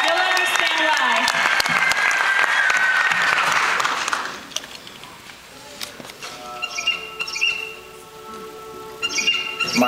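An audience claps loudly for Santiago at a Team ASTANA presentation in Albuquerque. Dense applause fills the first four seconds, then drops away to scattered quieter sounds.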